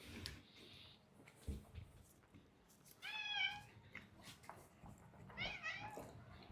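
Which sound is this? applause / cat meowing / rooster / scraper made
cat meowing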